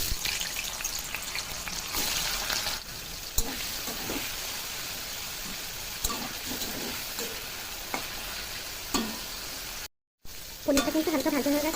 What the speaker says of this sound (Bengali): তেলটা গরম হয়ে গেছে, এখন পনিরগুলোকে ভেজে নেবো।